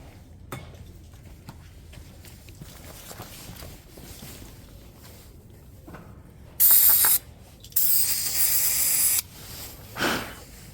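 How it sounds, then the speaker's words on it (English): Two close, loud bursts of aerosol spray hiss, one short and one longer, after quiet handling noises, with a faint third puff near the end. "Let me give that another spray."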